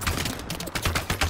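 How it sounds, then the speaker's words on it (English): Enemy gunfire in Apex Legends crackles in rapid, uneven bursts, fairly loud and continuous through the moment, with a brief lull midway before the shots resume. "wait a minute, they're shooting at me"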